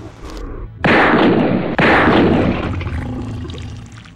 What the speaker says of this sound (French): Mais tire, Franck, bordel!